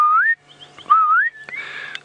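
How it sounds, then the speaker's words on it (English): A southern boubou calls on a safari drive at Djuma, loud, close, liquid whistled notes rising in pitch, two clear phrases followed by a harsher buzzy answering note, alone without talk. "a southern boo-boo. Definitely one of the best vocalizers we get here on Djuma."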